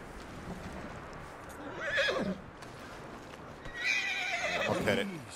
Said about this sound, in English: I'm gonna get closer to the horse.